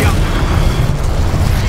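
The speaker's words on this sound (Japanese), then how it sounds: "なんか爆発した" A loud, dense boom rumbles through an explosion in the video game Hogwarts Legacy, a sustained burst of low roaring noise filling the short moment.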